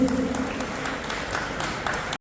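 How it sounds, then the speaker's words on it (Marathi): Faint, scattered clapping from an audience at a birthday celebration runs throughout under a soft background murmur, with a voice briefly audible near the start. "टाळ्या वाजूया राजूभाई यांच्या या स्वागतासाठी"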